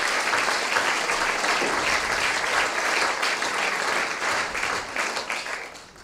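Audience at a German stand-up comedy show breaks into sustained, dense applause, loud and steady for the whole stretch before tapering slightly at the end, with no talking over it.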